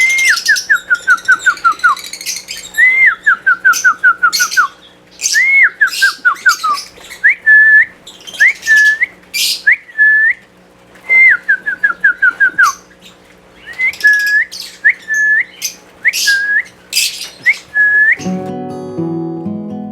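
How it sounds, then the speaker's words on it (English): A trainer whistles a repeated falling tone in short bursts to signal pet lovebirds and parakeets, and sharp bird chirps answer between the whistles, loud and close. "And I'm training them with a whistle."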